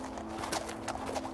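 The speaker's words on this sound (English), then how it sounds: "Sounds more like a horse." Horse hooves clip-clop in the video game What Remains of Edith Finch, a few quiet, fairly quick hoof knocks heard faintly over a soft steady background.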